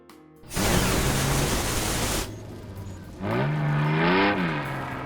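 A cartoon bus engine fitted with a turbocharger roars steadily and loud, drops back briefly, then revs up again with a rising and falling whine.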